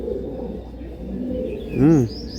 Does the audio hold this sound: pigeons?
yes